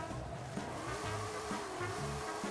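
Video-game car drifting in Forza Horizon 5, with a steady engine drone and rising, wavering tire squeal running through the whole stretch, loud and continuous with no talk over it.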